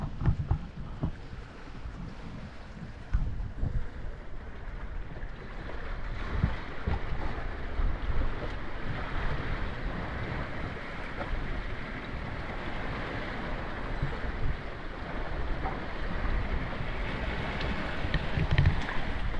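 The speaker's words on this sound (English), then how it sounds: "Waves are always difficult to show, but I guess they are now 2 meters, which is quite nice." Ocean waves around two meters high wash and roar steadily past a sailboat at sea while offshore wind buffets the microphone, a continuous broad rush with occasional louder surges.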